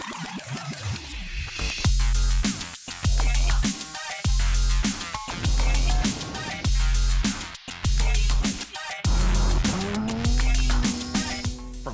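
A pickup truck engine revs repeatedly in rhythmic bursts as tires slide and scrabble on loose gravel during rallycross, loud and close, with engine whine shifting throughout.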